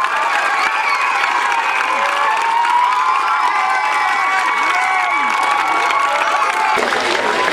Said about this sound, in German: Bitte gebt ihnen einen kräftigen Applaus